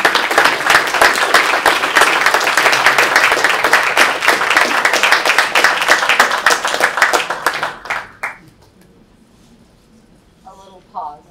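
Audience at a university lecture event applauds with loud, steady clapping from many hands for about eight seconds, then fades out, followed by a faint voice speaking briefly.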